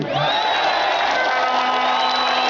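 A political rally crowd of ODM supporters in Kakamega cheers and whoops steadily for boda boda motorcycle taxi riders, a dense, continuous roar of voices with scattered clapping throughout.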